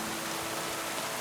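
Steady rain falls in the medieval world of Kingdom Come: Deliverance II, a dense even hiss with no breaks or distinct drops, heard alone without voices for just over a second.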